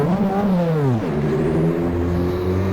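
Mazda 787B race car engine in rFactor bogging down toward a stall, its harmonic drone sliding downward and wavering before settling into a rough, steady idle, loud and close.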